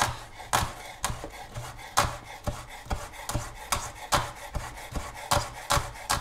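A knife chopping a chili pepper finely on a cutting board, brisk regular knocks in quick succession, close and crisp, each stroke a sharp tap against the wood.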